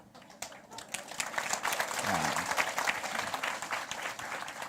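A cyber psychology conference audience breaks into louder clapping, starting lighter and building to a strong, sustained roar of many hands, with a brief vocal cheer briefly rising out of the crowd midway.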